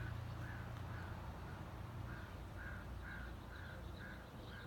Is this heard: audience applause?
no